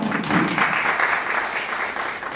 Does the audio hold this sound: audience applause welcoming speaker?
yes